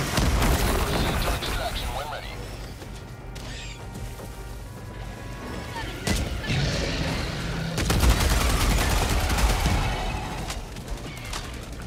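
Helldivers 2 gameplay with grenade explosions and gunfire: rolling booms, crashes and rapid bursts of shots fill the whole stretch, under occasional talk.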